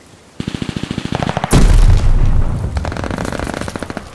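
Rapid automatic gunfire rings out in Call of Duty Vanguard: a quick rhythmic string of close, loud shots, a heavy boom or explosion, then more sustained bursts of firing.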